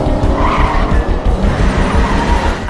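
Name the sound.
cars skidding in a car chase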